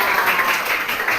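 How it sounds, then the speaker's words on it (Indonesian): A classroom of students applauds together after the teacher calls for it, a steady, dense burst of clapping that fills the short moment without any talk over it. "Kita berikan tepuk tangan."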